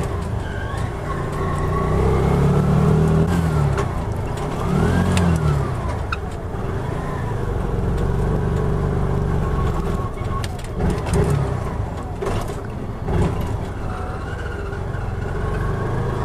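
A 2020 Piaggio Ape City Fi three-wheeler engine while riding, a loud, close small-engine drone that rises and falls with throttle and gear changes, accompanied by steady road and wind noise.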